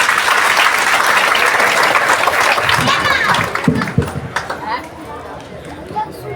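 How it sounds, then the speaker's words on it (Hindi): Loud crowd applause at a political rally stage in Bihar, dense clapping that fades into scattered claps and crowd chatter toward the end. "सब जोरदार तालियों से स्वागत करिए"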